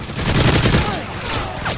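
An M60 machine gun firing in Call of Duty: Modern Warfare 3, a loud, continuous rattling burst with heavy low rumble that stays steady throughout.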